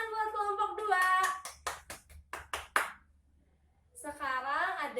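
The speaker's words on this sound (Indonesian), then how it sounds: "tepuk tangan buat kelompok 2" Brief burst of classroom clapping from fourth-grade students for a presenting group, a rapid patter of separate hand claps between stretches of teacher talk.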